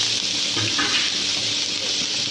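Water pours steadily into a cooking pot of green chilli chicken, a continuous close splashing and gurgling rush with no talk.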